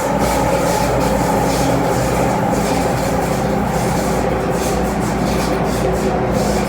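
A Hong Kong MTR generation 3 M train running, a steady loud rumble with metallic rail hum and wheel noise that holds constant throughout, with no voices.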